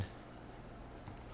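A computer keyboard is typed on while entering jQuery code, with steady, faint, close key clicks and a quick flurry of taps near the end.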